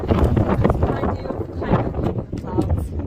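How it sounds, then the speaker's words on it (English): Wind gusting across a mountain trail in the Saddlebacks, a loud, continuous rumbling buffet on the microphone, with people talking through it. "Yeah, it's kind of windy, isn't it?"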